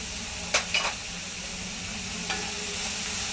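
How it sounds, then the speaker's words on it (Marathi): Green chili and ginger-garlic paste sautéing in a pan, a constant close sizzle of frying broken by a few sharp spatula scrapes and taps. "ह्याचा कच्चेपणा जाईपर्यंत हे जरा परतून घेऊया"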